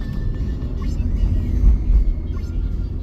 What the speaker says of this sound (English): A motor bus.